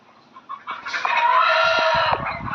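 Young Bhimavaram-breed roosters and a hen sound off at close range, with a sustained crowing call of about a second and a half, then clucks and rustling. No speech is heard.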